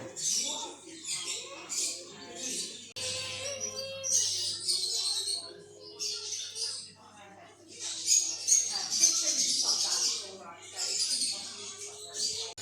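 Zebra finches and other small birds in a pet store chirp and tweet in quick bursts, several at once, with people talking intermittently underneath and a faint low hum in the background.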